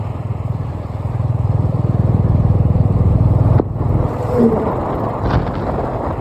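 A new Royal Enfield motorcycle engine idling with a steady thumping beat, rising as the throttle opens before easing back, close by, with brief voices in the background.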